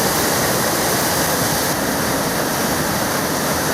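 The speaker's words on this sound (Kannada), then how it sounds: "ನಿರಂತರ ಮಳೆಯಿಂದಾಗಿ ಪಲ್ಗುಣಿ ನದಿ ಉಕ್ಕಿ ಹರಿತಾ ಇದೆ." A river in flood after heavy rain, the Palguni in Karnataka overflowing its banks, roars as a loud, steady wash of rushing water with no pause throughout.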